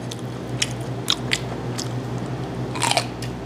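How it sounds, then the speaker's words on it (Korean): Whole grilled gizzard shad (jeoneo) being chewed up close, with sharp, bony crunches snapping at irregular intervals over a low steady hum, several bites in quick succession. "전어 씹어 먹는데."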